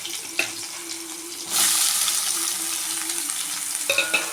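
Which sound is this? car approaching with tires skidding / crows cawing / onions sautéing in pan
onions sautéing in pan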